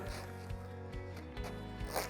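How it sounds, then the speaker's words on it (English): A zipper on an A/M-24 inflatable life jacket is pulled closed in a few short, faint rasping strokes, heard close and alone. "And do the zipper."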